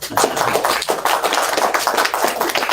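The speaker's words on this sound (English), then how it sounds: "How about big round of applause?" An audience at a small crypto meetup gives a round of applause, a dense stretch of many hands clapping close and loud, steady from start to finish.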